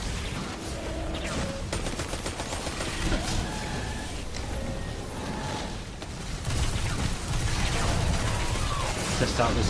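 Gunfire from a new weapon in the game Destiny 2, bursts of shots mixed with clanking mechanisms and combat effects amid a busy battle, growing louder toward the end.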